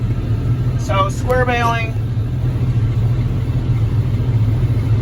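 A John Deere 5075e tractor's engine drones loud and steady, pulling a New Holland 630 round baler through alfalfa hay. Someone speaks briefly over the constant rumble near the start.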